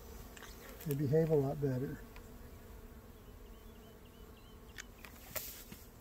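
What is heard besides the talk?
honey bees buzzing in a cutout hive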